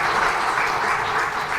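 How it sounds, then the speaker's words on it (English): An audience in a classroom or lecture setting gives a round of applause, a dense, even burst of many hands clapping that stays loud throughout, with no talking. "can we give him a round of applause?"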